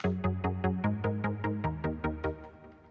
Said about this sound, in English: A different pluck, which sounds like this.